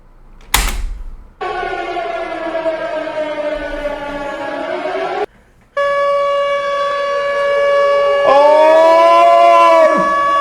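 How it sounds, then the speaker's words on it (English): A loud electronic siren wails with strong, steady tones, cuts out briefly, then returns and ends with a swooping rise and fall. "It's time to hit them sirens."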